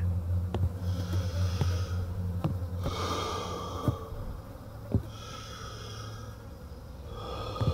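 Heavy snorting breaths in the horror game Summer of '58, slow rasping inhales and exhales repeating at a steady pace, close and fairly quiet, with faint clicks.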